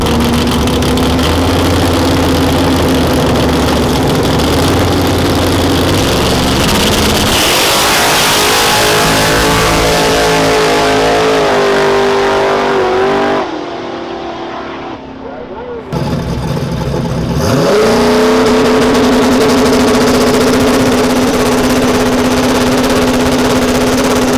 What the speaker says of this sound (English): Man, that was a drag race.